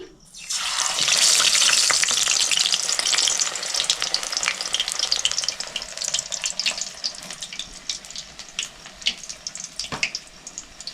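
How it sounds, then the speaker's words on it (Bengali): Batter-coated bok flower fritters dropped into hot oil in a wok give a loud burst of sizzling that gradually settles into a steadier, crackling fry, close up with no voices. "নিয়ে যে কড়াইতে দিয়ে দিচ্ছি"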